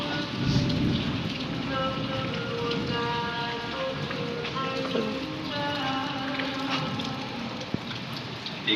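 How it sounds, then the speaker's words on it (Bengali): Heavy rain pours outside onto soaked streets in a dense, continuous patter, with low thunder rumbling beneath it and no talk. "আর এদিকে হচ্ছে বাইরে প্রচন্ড পরিমাণের বৃষ্টি হচ্ছে।"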